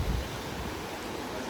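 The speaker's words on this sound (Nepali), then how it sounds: "तल पुरा खोला बगिरहेको छ" Far below a mountain trail in Langtang, a river rushes in a constant soft roar, a low, even wash of water with a brief low rumble at the start and no voices.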